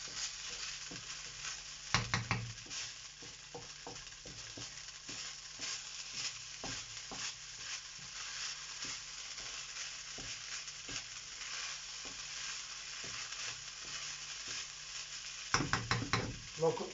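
Rice reheating in a pan, later joined by sausage, shallot and garlic, with a steady hiss of frying, scattered scraping stirs and a few louder clatters near the start and end.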